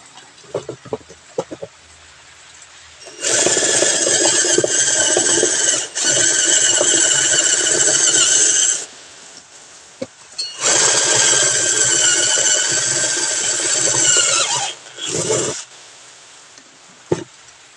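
Power drill bores out a bushing used as a washer on a Shacman H3000 dump truck, two long loud whining runs of several seconds each with a brief burst after, separated by quieter workshop clatter.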